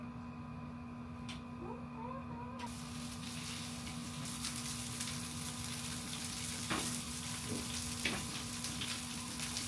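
Fish frying in a pan, a soft, steady sizzle that swells louder after a couple of seconds, with faint clinks and low voices in the background.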